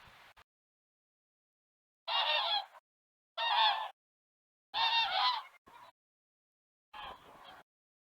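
Geese in Poland in autumn honk in several separate bursts with silent gaps between them, loud and close, some calls overlapping in quick clusters.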